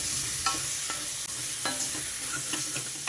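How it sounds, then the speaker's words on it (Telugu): A spoon stirs brinjal and chicken curry in a frying pan, giving sharp scraping strokes every half second or so over a steady sizzle, close and alone. "ఇప్పుడు ఇదంతా బాగా కలిపేసుకోండి"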